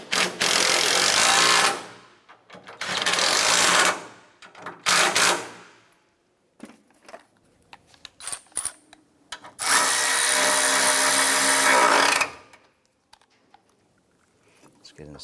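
Power tools tighten bolts on the torque strut engine mount of a 2006-2013 Chevrolet Impala. There are two loud whirring bursts of a few seconds each, then scattered clanks and clicks, then another sustained run close to the microphone.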